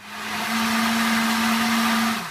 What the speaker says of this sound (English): I'm going to add some water to it, and I'm going to blend it up and strain it through a fine strainer.